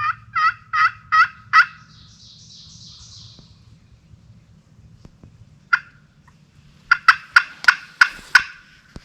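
A turkey gobbles in rapid rattling bursts, a few calls at the start, a lone note mid-way, then a louder series of gobbles close by.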